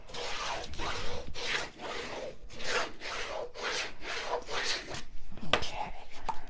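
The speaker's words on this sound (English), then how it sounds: "And let's turn that over and burnish." Paper pieces for a mini album are burnished by hand, giving a run of soft, close scratchy rubbing strokes in an uneven rhythm, fairly quiet throughout.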